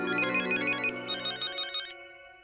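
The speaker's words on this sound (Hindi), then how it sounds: "भिड़े मास्टर का ही फोन है।" A phone rings with a bright electronic melody in two quick bursts, loud and close, then fades out.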